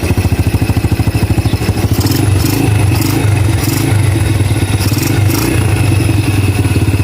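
Yamaha Crypton 110 motorcycle engine idling close by, with a loud, steady, fast-pulsing putter and mechanical clatter that lasts throughout, the pulse growing slightly rougher after a couple of seconds.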